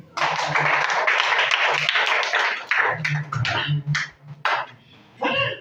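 A children's church congregation in Mbuji-Mayi breaks into applause, a dense burst of clapping that thins into scattered claps with voices mixed in.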